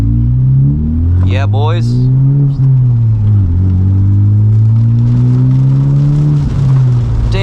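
A Honda Type R with a boost leak accelerates hard, its engine note climbing in steady pulls that drop and rise again, loud and close from inside the cabin, with a man's brief exclamation partway through.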